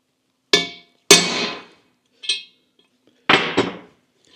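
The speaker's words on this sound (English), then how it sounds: "I'm just going to give that a couple of whacks." Hammer strikes driving a pinion bearing race into place on a Scout 800 restoration, five sharp metallic whacks spaced irregularly, close and ringing briefly, two of them in quick succession at the end.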